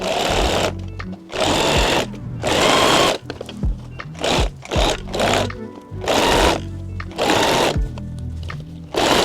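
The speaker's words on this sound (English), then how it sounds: "I think I'm gonna use a zigzag stitch" A sewing machine zigzag-stitches elastic onto fabric for a halter top maxi dress, running in loud close bursts of rapid stitching separated by short pauses, with no talk.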